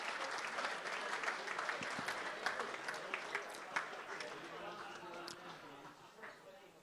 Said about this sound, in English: another round of applause for the 2023 Melbourne Cup in Port Fairy